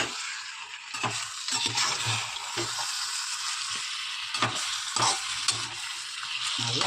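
A ladle scrapes and stirs through chicken curry in a pot, making repeated rhythmic strokes over a continuous bubbling sizzle, close up and without talk.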